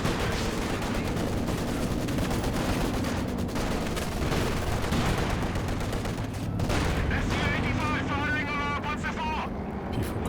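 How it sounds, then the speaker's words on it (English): Machine-gun fire and artillery barrages in a WWII strategy video game, a dense, continuous clatter of shots and booms running throughout, with a voice talking over it. "We're not getting a very favourable scatter against this machine gun, locking down the VP"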